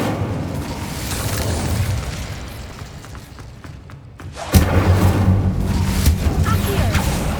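Incendio fire spell blast in Hogwarts Legacy, a loud sudden whoosh-boom that bursts in after a brief lull and sustains as a roaring fiery rumble, with voices talking over the game action before it.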